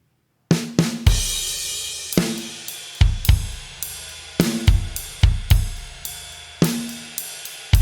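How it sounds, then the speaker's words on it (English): EZdrummer 2 drum software playing a groove: sharp kicks, snare hits and cymbal crashes in a steady rhythm, loud and close after a brief silence, with no talking. "But this is EZdrummer playing."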